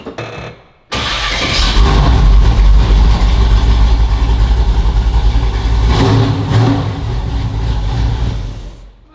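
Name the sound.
1967 convertible's high-performance built engine starting and revving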